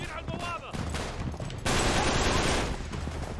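Gunfire in Uncharted 3: Drake's Deception: a flurry of shots and heavier blasts crackles through a chaotic fight, growing louder partway through, with voices underneath.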